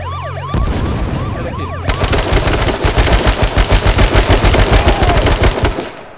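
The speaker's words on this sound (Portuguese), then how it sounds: "eu errei tudo os tiros aqui" Rapid bursts of gunfire in the video game H1Z1: King of the Kill, a loud rattling volley of shots building into a steady automatic rhythm before cutting off.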